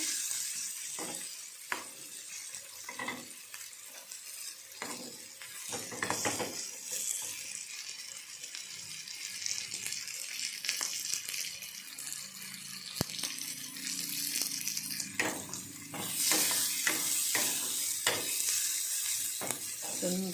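Onions fry in a pan until lightly browned for a home-cooked Kannada kalu palya, with a continuous sizzle and intermittent scraping stirs of a spoon against the pan. Close and steady, with no talking.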